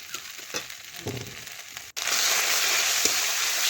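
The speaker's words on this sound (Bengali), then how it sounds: "এইভাবে নাড়াচাড়া করে পেঁয়াজের সাথে মিশাতে একটু ভেজে নিলাম" Onions fried with ginger-garlic spices in a pan for a chicken and new potato curry, heard as scraping and crunchy stirring for about two seconds, then a steady loud sizzle after a brief pause.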